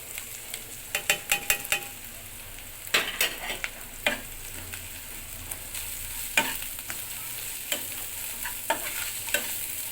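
Ginger-garlic paste with turmeric, chilli and coriander powders being stirred and fried in a pan for a yogurt chicken curry, with a steady low sizzle and repeated scraping clicks of the spatula, close and without talk.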